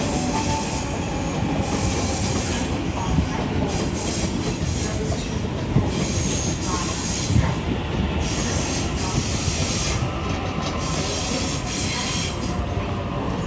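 A Sydney Trains Leppington line train runs steadily close by, with a constant rolling rumble, squealing wheels and occasional sharp clanks from the rails.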